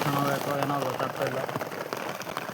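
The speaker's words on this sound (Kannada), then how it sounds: "ಸಖತ್ ಮಳೆ ಬರ್ತಾ ಇದೆ" Heavy rain pours steadily during a roadside cycling trip, a dense broadband wash that holds through the whole short stretch, with a voice briefly audible near the start.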